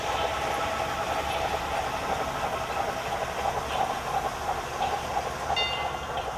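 Model train at the Puritas Nursery holiday train display runs with a continuous, even mechanical rattle and hum, moderately loud and steady throughout, with faint tinkling accents near the end.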